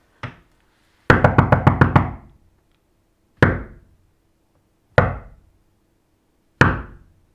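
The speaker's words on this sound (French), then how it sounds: "j'ai frappé à une 3e porte, plus insignifiante." Knuckles rap on a door: a single knock, then a quick run of about six, followed by three more isolated knocks spaced apart, each sharp, close and loud against quiet.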